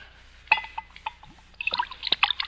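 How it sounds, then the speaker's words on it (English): Sherry poured into a glass in a radio drama: short liquid trickles and drips with a few bright glassy clinks, close and clear, with no talk over it. "you can pour me a glass of sherry"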